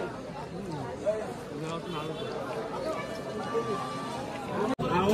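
A busy outdoor crowd murmurs all around, many overlapping voices forming a steady babble, with nearby people talking over it.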